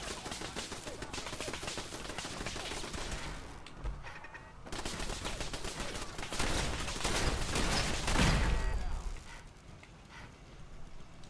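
Gunfire in a video game shoots at the player, with dense, steady rapid rattling that keeps going for several seconds, briefly drops out, then comes back louder before fading.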